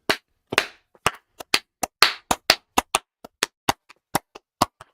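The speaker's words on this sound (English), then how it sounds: "try and clap with me" Sharp, close hand claps, roughly fifteen crisp strikes in a loose, uneven rhythm with silence between them, from a single nearby clapper.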